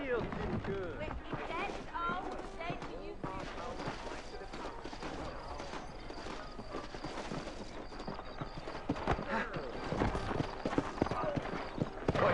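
Steady clip-clop of saddled horse hooves at a walking pace in the video game Red Dead Redemption, close and continuous, with voices talking over it.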